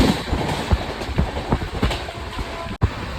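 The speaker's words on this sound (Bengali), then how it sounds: "এই হলো আমাদের জনশতাব্দী এক্সপ্রেস।" Jan Shatabdi Express train running at speed on the rails toward Chandigarh, with a rhythmic clickety-clack of wheels over rail joints and a constant rumbling roar heard from inside the coach, with no talk.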